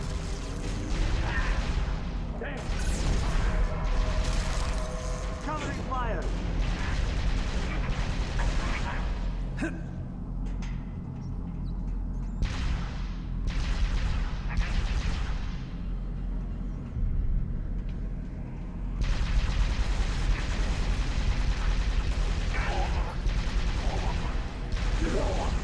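An energy turret fires at enemy shields during Halo: Reach combat, a loud, dense, continuous barrage of weapon blasts and mechanical effects that rolls on for the whole stretch.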